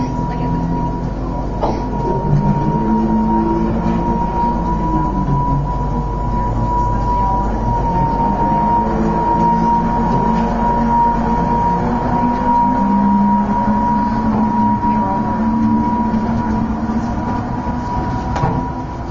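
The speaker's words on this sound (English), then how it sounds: "looks like we got a tram coming through again" A tram rumbles past close by, a steady heavy roll with tonal hum and faint wheel squeal lasting throughout, with a voice audible faintly beneath it.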